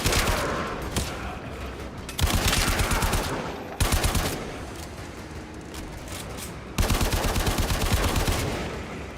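Rapid bursts of gunfire in the video game Warframe, with long dense rattling volleys that stop and restart several times, loud and close, with no talking.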